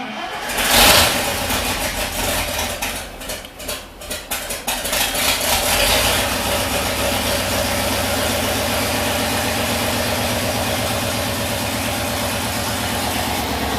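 A 1973 IH Loadstar Blue Bird school bus engine, its carburetor primed with gas, cranks and catches near the start, then settles into a loud, steady, rough idle that runs close to the microphone to the end.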